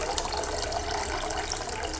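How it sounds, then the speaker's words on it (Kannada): Water pours steadily into a cooking pot for a soupy Uttara Karnataka-style fenugreek kadubu, a continuous close splashing rush with no voices. "ಸ್ವಲ್ಪ ನೀರು ನೋಡೇ ಹಾಕ್ಕೊಳ್ತಾ ಇದ್ದೀನಿ"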